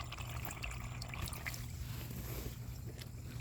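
Steady water flow running through a drainage pipe into an underground dry well, a constant low gurgling rush with faint trickles and splashes, fairly quiet and unbroken.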